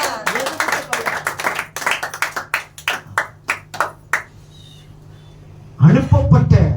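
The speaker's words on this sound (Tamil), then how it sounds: "ஜோர கைத்தட்டுங்க." A church congregation claps during a Tamil sermon, a quick run of loud, sharp claps that slows into spaced single claps and fades out, followed by a burst of voices.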